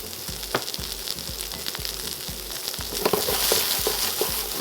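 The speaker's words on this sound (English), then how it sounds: "with that little bit of oil, we're going to use to saute our veggies, starting with the onions" Onions sautéing in oil in a wok, a continuous close sizzle with rhythmic scraping and stirring knocks, the hiss growing a little louder toward the end, no speech.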